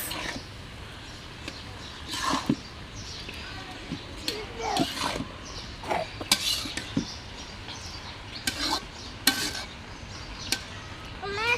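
Green chilies go into a frying vegetable dish and are stirred, with intermittent scraping and clattering strokes over a faint background sizzle, close and fairly quiet.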